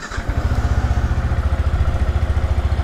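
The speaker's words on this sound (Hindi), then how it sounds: "कर लेते हैं बाइक्स को स्टार्ट" A Yamaha R15 sport motorcycle engine fires up and settles into a steady, loud, throbbing idle close by, with a rapid regular pulse.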